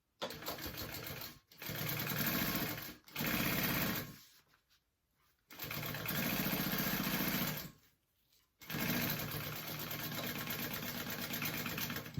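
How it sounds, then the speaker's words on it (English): A sewing machine stitches a 3/4 inch seam on a tote bag, its motor whirring loudly in long steady bursts separated by short quiet pauses, with no talking. "I'm gonna sew that on with a 3/4 inch seam allowance"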